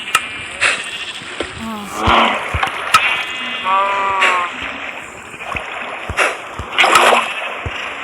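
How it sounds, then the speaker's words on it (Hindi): Water from a bucket is poured in Minecraft on a mutton and beef farm. A brief splash sounds amid repeated nearby sheep bleats. "पहले एक बार पानी डालूंगा"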